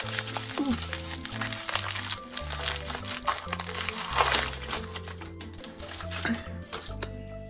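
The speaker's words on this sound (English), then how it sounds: "Let me take it out of the paper." Crinkling and crackling of paper wrapping as denim bandana-print fabric is pulled out, with irregular rustles over a steady low musical backing and nearby handling noises.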